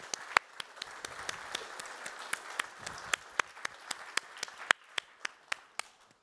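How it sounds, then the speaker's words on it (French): A conference audience gives sparse applause, a thin run of distinct, evenly spaced claps from a fairly small group that thins out toward the end. "Merci Stéphane, on l'applaudit."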